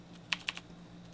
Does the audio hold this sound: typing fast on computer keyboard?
yes